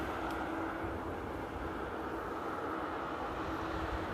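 An Aeromexico airliner lands at Amsterdam Airport at sunset, its steady low jet roar heard from a distance and unchanging for the whole stretch, with no talking.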